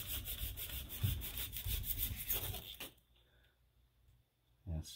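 Knife trimming cured spray foam patched into a drywall hole, close rasping, sawing strokes for about three seconds, then near silence with a brief thump at the end.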